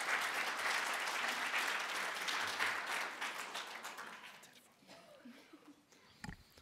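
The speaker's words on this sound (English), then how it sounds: "So give a warm applause for Joost van Hoof for the social environment." Audience at a conference session on housing and dementia applauds a speaker with sustained, dense clapping that gradually fades, then thins into a few scattered claps and room noise.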